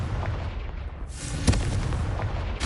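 Confringo fire spell blasting in Hogwarts Legacy, a sharp burst near the midpoint rising out of a dense, roaring rumble of game noise that swells after the first second.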